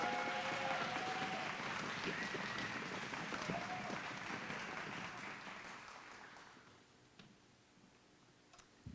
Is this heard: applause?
yes